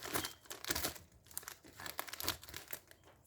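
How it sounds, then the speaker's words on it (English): A plastic package is cut open with scissors, producing loud, close crinkling and tearing of plastic in irregular bursts throughout. "Let's open up the package if I can just locate where I put the scissors."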